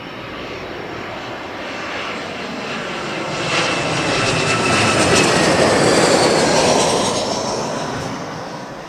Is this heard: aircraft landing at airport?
yes